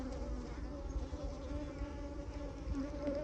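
A large honey bee colony hums during a hive inspection, a close, steady buzzing drone from many bees that wavers slightly in loudness throughout.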